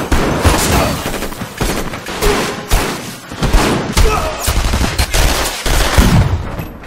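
Rapid gunfire crackles through a movie shootout during a robbery scene with grenades, with dense bursts and single loud shots packed with thuds and echoes that keep going without a break for several seconds.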